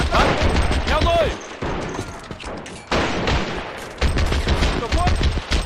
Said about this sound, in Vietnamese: Tất cả đồng loạt bắn tấn.